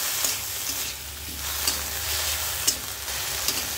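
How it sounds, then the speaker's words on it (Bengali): Coriander leaves frying in a hot pan, a steady close sizzle and hiss with a few sharp pops and scraping stirs throughout, no voices. "ধনিয়া পাতাগুলি চড়া জলে ভেজে নিচ্ছি, তাহলে পানি বের হয়ে যাবে"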